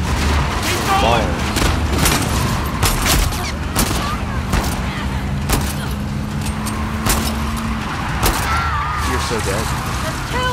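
Gunfire in The Last of Us Part 2 comes as rapid sharp shots and bursts over a loud, dense mix of vehicle engine noise and game sound, with players shouting over it.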